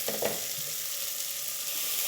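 Two chopped onions sauté in a pan for a Kerala chicken curry, a steady, close frying sizzle with a brief stir or scrape near the start, and no voices.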